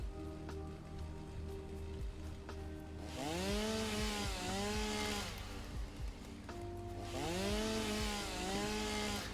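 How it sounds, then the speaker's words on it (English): A chainsaw in a video game cuts trees in the morning, idling with a steady buzz, then revving hard in two long, loud bursts with rising and falling engine pitch. "Nothing but the peaceful sounds of chainsaw"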